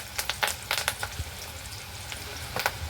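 Finely chopped onion, curry leaves and dal fry in a pan while a spoon mixes them, a constant sizzle broken by sharp clustered scraping clacks, near and fairly loud, without talk.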